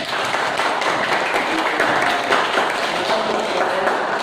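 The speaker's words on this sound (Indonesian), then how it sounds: "Beri tepuk tangan untuk Nike." Classroom applause for a student during a lesson on social norms, a steady wash of many hands clapping that fills the whole stretch at an even, moderate level with no voices standing out.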